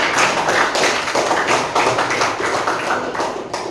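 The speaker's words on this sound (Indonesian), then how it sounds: "Makanya tepuk tangan untuk kalian." A classroom of students applauds together, a dense, steady wash of many hands clapping close by and continuing throughout without a break.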